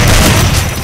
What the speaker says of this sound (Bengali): এখন আমরা শটগান দিব, শটগান দিয়ে একটা চাপা দিতে হবে